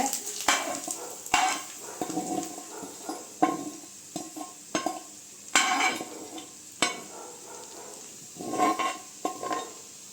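Fried coconut in ghee being stirred into appam batter for a Karthigai Deepam recipe, a spoon scraping and clinking against the bowl in repeated close strokes with soft wet squelches, no talking.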